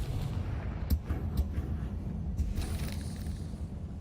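A Confringo fire spell detonates in a wizard video game, producing deep rumbling explosive booms with a few sharper cracks layered over a continuous low roar, and no speech.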